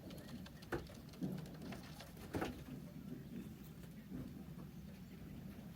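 Young racing pigeons coo softly at their loft after a race, faint, scattered calls over a steady background hiss.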